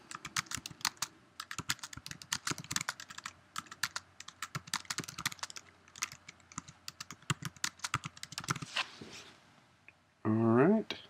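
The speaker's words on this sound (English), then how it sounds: "you can type a little more lengthy description and under the description." Keys clatter in quick, uneven bursts on a computer keyboard as an event description is typed, close and clear, ending with a short burst of a voice.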